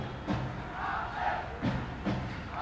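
Crowd of soldiers roaring and chanting at an Army SC rugby union match, repeated loud shouted bursts rising over a steady stadium murmur.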